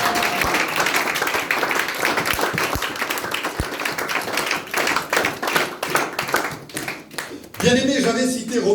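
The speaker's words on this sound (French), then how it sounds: "Nous acclamons pour le roi des rois." A church congregation claps and applauds together in a worship service, a dense, steady burst of hand claps with crowd noise and scattered thuds throughout, shifting near the end into louder voices.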